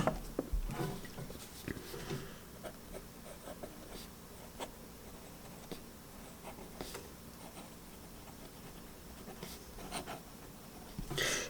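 A Super 5 italic fountain pen nib scratches across paper in a soft, continuous rasp with faint stroke-by-stroke pulses, heard close up and low in level without any talking.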